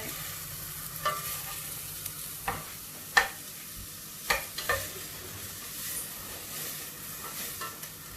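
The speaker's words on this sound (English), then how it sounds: "just going to stir this around now. So you have to carry on stirring it so it doesn't burn or anything." Food browning in a frying pan over steady sizzling, stirred so that a utensil scrapes and taps the pan every second or so, close and moderately loud, with no talk.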